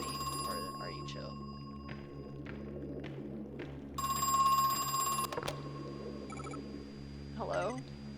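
Telephone ringing in the horror-styled video game Crow Country, set in an abandoned theme park near Atlanta: a bright electronic ring sounding in one long burst, then short repeated trills, over low ambient hum and footsteps.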